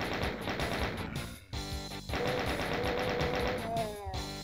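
Chaingunners fire in Doom 2 on Ultra Violence, rapid repeated gunshots rattling in dense bursts mixed with other game effects and a brief tonal pickup sound.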